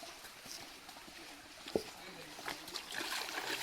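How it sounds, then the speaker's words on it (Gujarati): People wade through a shallow stream in the Gir forest on a pilgrimage walk. Faint, scattered splashes and trickles of water sound, with one sharper splash near the middle and soft voices in the background. "અહીંથી મસ્ત પાણીમાં હાલીને જવાનું"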